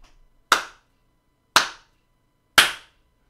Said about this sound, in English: slow clap for Train Simulator